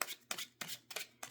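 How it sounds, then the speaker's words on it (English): A deck of cards is shuffled in repeated quick riffles, four or five close, crisp bursts of fluttering card edges at a steady rhythm. "I'm going to shuffle again."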